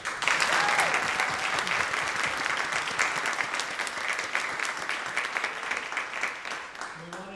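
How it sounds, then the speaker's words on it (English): Sustained audience applause for an upper school chamber orchestra at a spring instrumental concert: dense, steady clapping from a full hall that holds for several seconds and then begins to thin and fade near the end. "So let's give them a round of applause."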